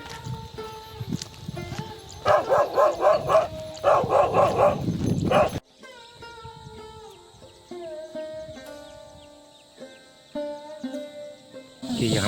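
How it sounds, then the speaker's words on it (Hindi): Two dogs from a green farm field bark in rapid overlapping bursts for a few seconds, loud and close, then fall silent while softer tonal sounds continue. "खेत में से दो कुत्ते दौड़ते हुए आए और"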